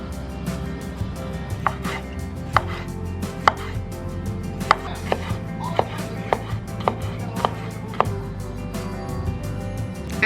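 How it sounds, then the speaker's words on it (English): A knife chops green onion and green pepper on a cutting board in a home kitchen, sharp regular knocks standing out over a low background rumble of sausage, onions and mushrooms cooking. "we're gonna get all this chopped up while the sausage, onions, and mushrooms are doing their thing"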